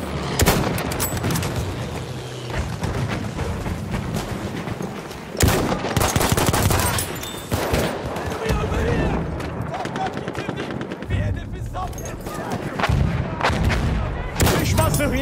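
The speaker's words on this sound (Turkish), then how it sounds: "Makinalı tüfek." Machine gun fire rattles through a Battlefield 1 desert battle in the Sinai, with repeated loud bursts of automatic gunfire, scattered rifle shots and booming explosions overlapping at close and middle range, while voices call out beneath the gunfire.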